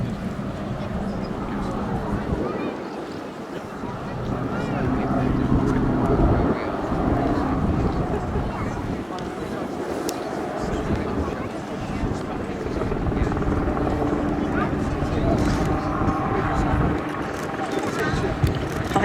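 A Westland Sea King helicopter departs an air festival display, its rotor and engine drone rising and falling steadily at middle distance while a commentator talks over it.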